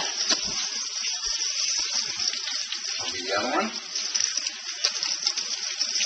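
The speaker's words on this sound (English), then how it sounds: "you just rinse the whole thing off" Leeks rinsed under a running kitchen tap, a steady hissing stream of water splashing close by, with a brief spoken comment over it partway through.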